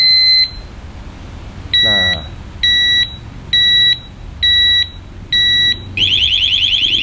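A Xena disc lock alarm on a motorcycle sounds a long beep, then a string of evenly spaced short electronic beeps, ending in a rapid warbling tone, all loud and close.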